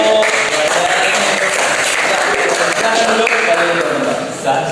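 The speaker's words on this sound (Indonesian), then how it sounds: "tepuk tangan untuk" Applause after a recycling demonstration with soda in a school classroom, a short burst of dense clapping under excited voices that tapers off near the end.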